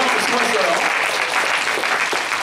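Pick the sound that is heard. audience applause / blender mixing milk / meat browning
audience applause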